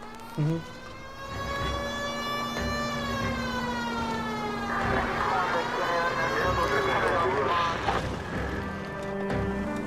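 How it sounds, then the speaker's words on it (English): A police car siren wails in the video game L.A. Noire Remastered, rising and falling continuously beside a steady engine hum, with a voice speaking over it. "Put the siren on."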